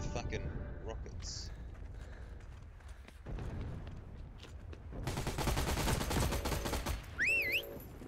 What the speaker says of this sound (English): Some fucker is shooting at me with fucking rockets.